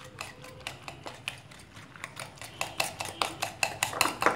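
An egg beaten with green chilli, coriander, salt and crushed red chilli in a bowl, quick rhythmic clinks of a utensil against the dish, growing louder and faster toward the end, with no talking.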